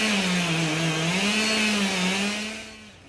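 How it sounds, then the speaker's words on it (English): A chainsaw whines steadily and loudly while crews put up a 50-foot blue spruce as a Christmas tree in Portland's Monument Square; the engine pitch wavers slightly, then fades away at the end, with no voices. "With chainsaws."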